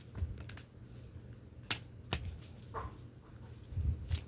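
Tarot cards being shuffled by hand: soft, sparse clicks and a few sharper snaps of the deck, quiet and close, with no talking.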